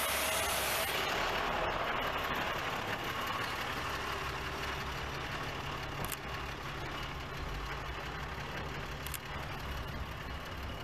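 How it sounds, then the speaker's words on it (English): A Cummins turbo diesel idles, a steady low rumble with a constant hum, near and unchanging for about eleven seconds, with a couple of faint clicks and no talk. "Cummins turbo diesel."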